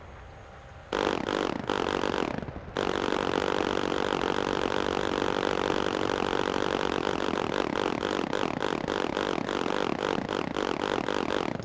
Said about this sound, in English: Why does Flyout stop and restart the cannon sounds?